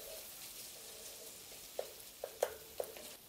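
Tomato paste is stirred into frying minced meat for a spicy pasta dish, a very faint low sizzle with a few soft spoon scrapes clustered toward the end, quiet and close.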